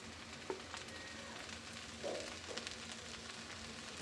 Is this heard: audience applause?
no